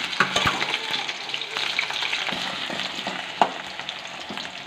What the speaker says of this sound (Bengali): আলু লাল লাল করে ভেজে নিতে হবে।